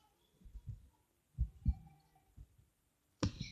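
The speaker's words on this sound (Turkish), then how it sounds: "Kalp sesi, kalp atışı." Heartbeat sound effect produced by thumping a t-shirt, a few soft paired low thumps in a loose beating rhythm, close and fairly quiet, followed by a sharper louder thump at the end.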